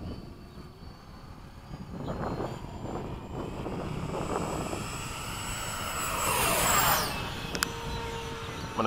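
Freewing 90mm F-15 RC jets fly in formation at sunset, their electric ducted-fan whine swelling as they pass close overhead and then fading, steady and fairly loud with no talking.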